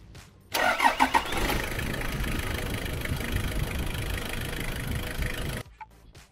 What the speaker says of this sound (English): And now, we can run the engine up and check for leaks, make sure that it starts all right.